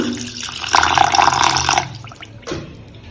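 Water splashes and pours into a metal pressure cooker holding mutton for about a second, then trickles off, followed by a soft clunk.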